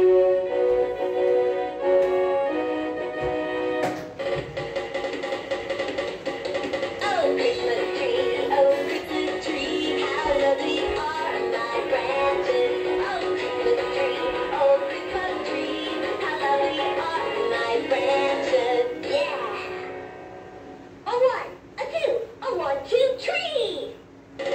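An animated talking Christmas tree from 2004 runs through its demo mode, playing a continuous, busy stretch of music and sound for about twenty seconds that ends in a few choppy bursts.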